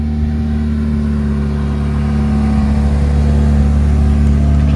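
A McLaren 675 LT sports car engine holds a loud, close, steady droning rev with strong low harmonics throughout, with no speech.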